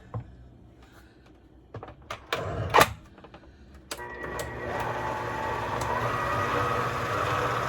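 An electric mixer in a home kitchen churning oatmeal raisin cookie dough in a bowl, preceded by a few clicks and knocks, then a steady whirring hum that starts up and runs continuously.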